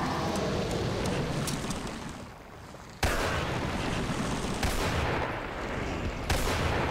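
Gunfire from the Resident Evil 4 game during a battle against Salazar: loud, noisy shots and bursts dense across the clip, with sharp sudden onsets around the middle and later, under a constant roar.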